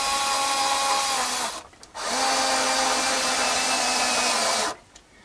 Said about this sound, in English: I'm going to put in these back screws just to make sure it's all lined up before we tighten it down